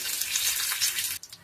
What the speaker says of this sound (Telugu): ఆయిల్ వేసుకున్నాక ఆవాలు, జీలకర్ర, ఎండుమిరపకాయలు, కొద్దిగా కరివేపాకు, ఇంగువ వేసుకొని పోపు వేసేసుకోవడమే